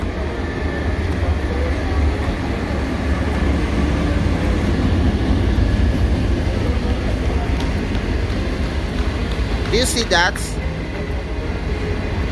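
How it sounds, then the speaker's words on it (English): A train rumbles steadily along the rails nearby with a constant low roar, a short squeal near the end, and a person briefly speaking over it. "So, the train is coming. The train can only move on that rail."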